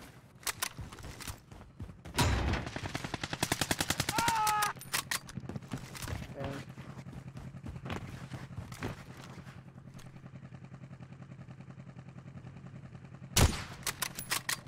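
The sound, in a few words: gunfire from an enemy shooting in the video game Warzone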